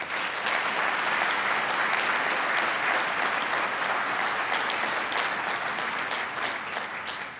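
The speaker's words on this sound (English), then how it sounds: "Let's give our faculty and staff a round of applause." Sustained applause from a large crowd at a community college commencement ceremony, a dense, even wash of clapping that holds steady throughout and tapers only slightly at the end.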